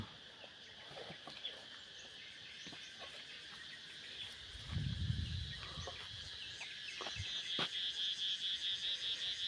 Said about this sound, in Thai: เสียงจักจั่นฮ้อง